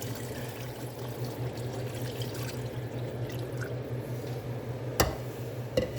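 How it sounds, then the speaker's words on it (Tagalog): Water poured into a pot of pork sinigang with onion, garlic and tomato, a steady close-up splashing pour with a low hum underneath and a couple of sharp clinks near the end. "Ito tayo ng tubig."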